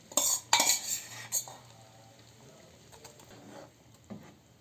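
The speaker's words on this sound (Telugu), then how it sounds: "పప్పు పేస్ట్, మటన్ పేస్ట్ వేసుకున్న తర్వాత ఇలా కలపాలి సిమ్లో పెట్టుకొని" A metal spoon scrapes and clinks against a pot as lentil paste and mutton paste are stirred together over a low flame for village-style haleem. A few loud clanks come at the start, then soft, sparse stirring and scraping.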